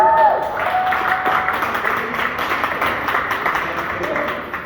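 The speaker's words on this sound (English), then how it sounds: "I appreciate the clapping" Applause from a stand-up comedy audience, a steady wash of clapping that holds across the whole stretch. A voice comes through faintly beneath it.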